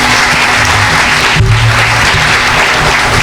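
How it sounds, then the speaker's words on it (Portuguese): An audience at a lecture breaks into loud, dense applause that fills the whole moment, a continuous wash of many hands clapping close and steady. "Pode aplaudir que foi bonito, hein?"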